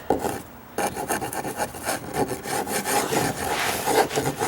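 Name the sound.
sanding down a gouge on wooden deck stairs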